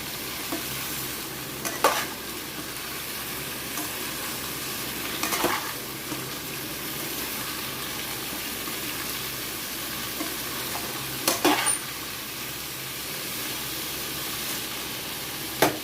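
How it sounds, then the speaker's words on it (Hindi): Boiled jackfruit frying in a pan, producing a steady hissing sizzle throughout with a few brief stirring scrapes. "ये मैंने उबाल के कटहल फ्राई होने रख दी"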